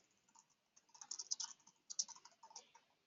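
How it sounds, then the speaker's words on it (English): Quiet, rapid typing on a computer keyboard, with clusters of light key clicks in uneven bursts and brief pauses between them, close and without talking. "My typing is awesome today."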